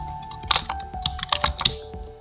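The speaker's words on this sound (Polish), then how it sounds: "No i tutaj napiszę tygrys." Keys clatter on a computer keyboard in uneven quick taps and small bursts, close and moderately loud.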